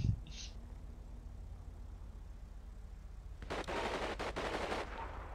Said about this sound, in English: They're shooting at this corner over here.